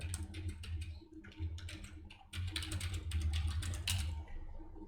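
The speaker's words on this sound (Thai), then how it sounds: "หลังจากนั้นให้เพื่อนๆพิมพ์อีเมลลงไปนะครับ" Someone types an email address on a computer keyboard, a close run of quick clattering keystrokes in uneven bursts over a low steady hum.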